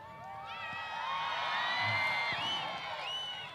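Spectators cheer and whoop for a horse at a Shetland pony steeplechase at a show, a steady mass of many voices, children among them, swelling and fading over a few seconds.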